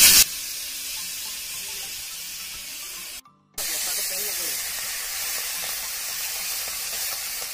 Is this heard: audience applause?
no